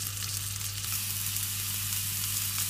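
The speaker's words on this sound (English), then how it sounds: "drop in the meat. You really want that nice sizzle." Constant crackling sizzle of meat frying in a hot pan, steady and close, with no one speaking.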